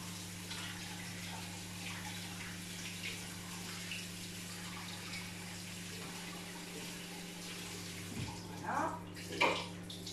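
Lentils are rinsed under a running kitchen tap, a faint steady stream of water over a constant low mains hum, with brief louder splashes near the end.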